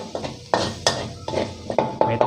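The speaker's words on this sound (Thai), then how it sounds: "ตำรวมกัน ก็คั่วให้หอมครับ" Pounded garlic, peppercorn and coriander root being stir-fried in oil in a pan for an old-style Thai palo stew, with repeated scraping and clanking of a spatula against the pan over a soft sizzle.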